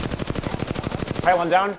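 Rapid automatic gunfire in the video game Apex Legends, a steady burst of about a dozen quick shots, ending as a voice speaks over the last moment.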